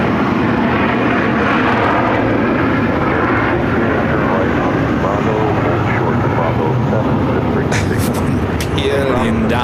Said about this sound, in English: Air Canada Express Jazz CRJ. This is coming in from Vancouver.